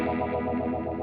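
A sustained distorted electric guitar note through a KMISE Vintage Phase pedal with heavy reverb rings out, thick and wavering with a washy, effected tail throughout.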